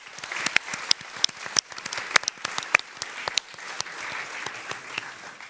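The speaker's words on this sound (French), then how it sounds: "Chère madame, on est très content, on vous applaudit" An audience applauds a speaker at a live event, a close, sharp patter of many hands clapping with individual claps standing out, swelling and easing slightly over several seconds.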